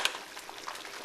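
Chicken soup boils in a big pan, a soft, steady bubbling hiss with faint scattered pops, close and quiet, no voices.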